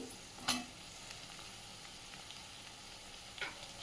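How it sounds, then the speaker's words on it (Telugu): Tomatoes fry in a pan for capsicum rice, giving a soft, continuous sizzle with a couple of sharper crackles or stirring clinks. "ముందుగా మనం పక్కన పెట్టుకున్న టమాటా వేసి ఫ్రై చేసుకోవాలండి"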